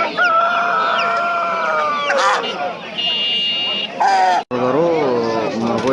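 Chickens and roosters kept for sale at a bird market cluck and crow steadily throughout, with several birds calling close by and overlapping, one crow rising near the end.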